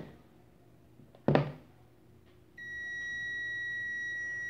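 A faint thump, then a steady high multimeter continuity beep switches on and holds continuously until the end, loud and close in a quiet room.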